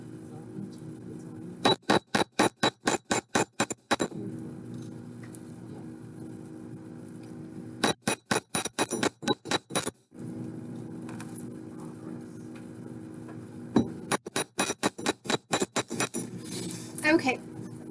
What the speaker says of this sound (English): I'm going to hammer all four of them.